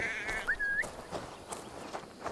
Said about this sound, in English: It works. The sheep follows my whistle.